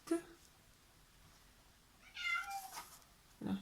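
A cat meows a few times, a short call at the start and a longer, louder call later, with a faint voice in the quiet background.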